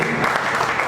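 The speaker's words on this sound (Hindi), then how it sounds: "तालियां तो हो जाओ गगन जी।" Brief burst of audience clapping at an NGO award ceremony, a dense patter of hands lasting about a second.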